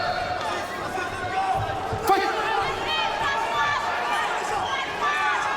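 A crowd at a GLORY kickboxing fight in Lyon murmurs and buzzes steadily in the background while a commentator talks over it, with a sharp thud of impact partway through.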